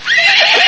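A single loud, close horse whinny, short and high with a wavering pitch, heard alone.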